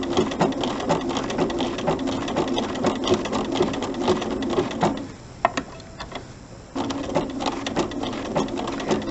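A sewing machine runs with a steady rapid stitching rattle while stitching machine applique around a circle, close and continuous, stopping briefly midway before resuming.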